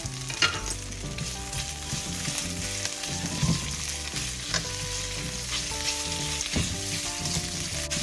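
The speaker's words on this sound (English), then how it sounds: "Add the sausage, stir and brown until just cooked through," Sausage sizzles and fries in a pan for penne alla vodka, a constant crackling hiss with repeated scraping and clinking of a utensil stirring and breaking up the meat, close and fairly loud, no talking.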